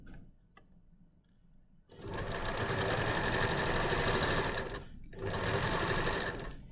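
A sewing machine stitches bias binding in two loud, steady bursts of fast close whirring, split by a brief stop, after a quiet start with light clicks.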